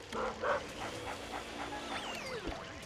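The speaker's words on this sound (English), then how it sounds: "Guys, I think the ghost dog is hostile." A hostile ghost dog in the Luigi's Mansion video game barks and yips in short bursts near the start, then gives whimpering, whining cries over a steady electronic game backdrop.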